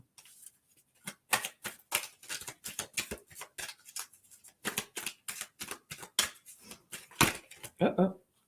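Oracle cards are shuffled by hand, producing a run of crisp, rapid riffling bursts at close range, with two cards snapping loose near the end; no one speaks.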